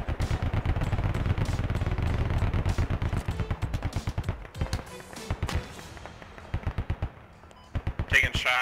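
Gunfire in the military shooter Squad: loud, close automatic bursts rattle in rapid runs, then break into shorter, spaced volleys with brief pauses between them.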